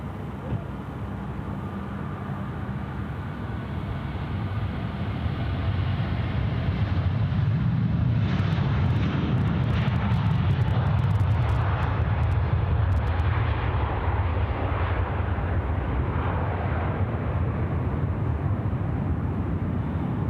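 A jet at Sydney Airport roars continuously at a distance, swelling in loudness as it passes and then holding a broad rumble.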